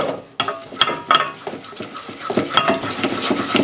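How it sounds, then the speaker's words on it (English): A spoon stirs a flour-and-butter roux in a saucepan, scraping the bottom with rhythmic strokes under a soft, steady sizzle, close and clear, with no talking. "keep touching that spoon on the bottom so you can see the bottom of the saucepan"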